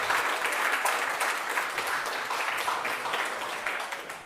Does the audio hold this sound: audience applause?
yes